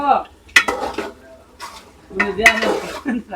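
Yellowfin tuna being stirred as it fries in a pan aboard a boat, with metal utensil scrapes and clinks on the pan over a faint sizzle, in irregular bursts.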